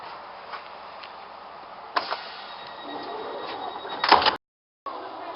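A sliding train door whooshes and rumbles amid steady carriage noise at Reading Station, with a clunk as it opens, a sudden cut to silence, then the hum returns.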